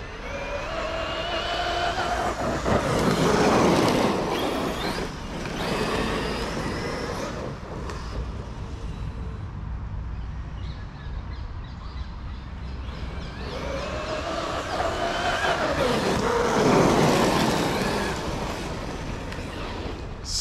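A Traxxas Sledge RC monster truck on 6S power races past twice, a loud rising and falling high-pitched motor whine with tyre and gravel noise between passes.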